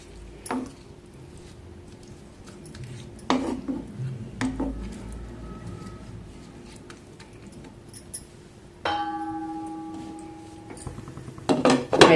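A spoon clatters and scrapes against a metal cooking pot while pulao with coriander is mixed, in a few sharp, separated strokes with quiet gaps between them.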